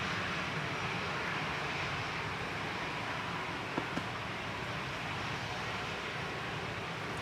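Jet aircraft at Manchester Airport, a Dreamliner pushing back, gives a steady, distant broadband engine roar with a couple of brief clicks partway through, no talk over it.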